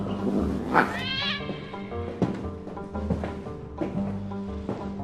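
A cat yowls and meows repeatedly in a movie scene, loud drawn-out caterwauling cries rising and falling over a steady background of music or ambience, with no talking.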